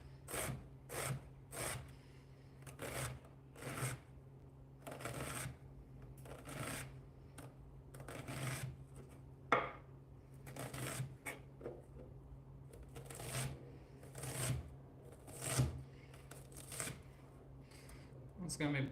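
Steady rhythmic chopping of an onion with a dull kitchen knife on a board, repeated close crisp strokes at an even pace, with a voice talking over them.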